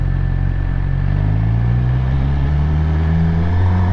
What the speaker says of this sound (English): You'll hear it too, listen to the bike.